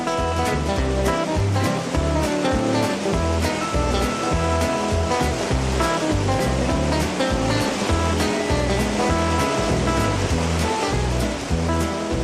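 Rushing whitewater of the Athabasca River rapids, a loud, steady roar of churning water that fills the whole stretch without a pause, with no voices.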